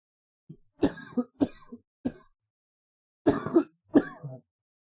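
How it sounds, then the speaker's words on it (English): A series of harsh coughs and throat clearing from one nearby person, in short bursts with brief pauses between them, no talking. "I'm terribly sorry about my disgusting cough."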